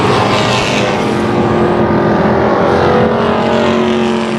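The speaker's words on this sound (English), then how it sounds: "Dylan Jones takes the lead, and he's got Don Zoll right there on his bumper." Pro stock race cars roar continuously at Tucson Speedway, a loud, steady engine drone with a sustained pitch that fills the whole stretch without a break.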